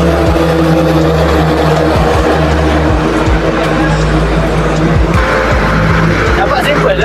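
Race cars lap the Sepang circuit during a Malaysia Speed Festival race day, engines droning loudly and steadily throughout with passing surges. People talk over the motor noise.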